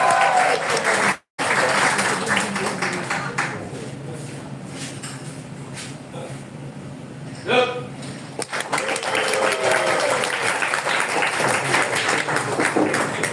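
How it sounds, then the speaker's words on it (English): Audience applause during a sumo demonstration in Japan, sustained clapping from a crowd with voices talking over it and a brief break early on. "Round of applause as well, sure."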